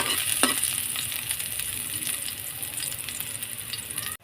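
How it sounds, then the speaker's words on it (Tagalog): Garlic and chili sautéing in a pan for bistek tagalog, a continuous bright sizzle with occasional stirring clatter, close and steady. "gigisa ko pa rin siya guys sa bawang"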